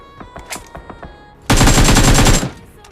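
Gunfire in the BGMI battle royale game: scattered single shots first, then a dense, loud burst of rapid automatic fire lasting about a second before it cuts off.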